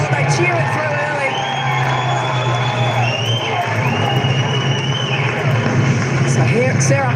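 A crowd at an AFLW football match, Richmond against GWS Giants, cheers steadily as a drop punt goal is kicked from a tight angle, a sustained roar with whoops under the commentator's talk.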